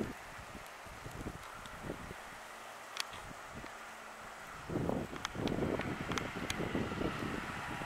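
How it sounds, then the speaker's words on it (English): Gusts of wind buffet the microphone in low rumbling bursts outdoors beside a 2005 Honda Metropolitan moped, growing stronger toward the end, with faint rustling in the background. "It's quite windy here today, so you might get a little bit of background wind noise."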